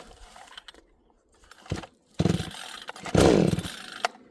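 A Vevor 62cc two-stroke chainsaw gives several short sputtering pull-start attempts. It then catches and runs briefly in loud rough bursts before cutting out, heard close up with no talking.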